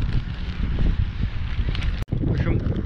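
Strong cold wind buffeting a microphone outdoors, a continuous low rumbling roar with one brief dropout, and faint voices underneath.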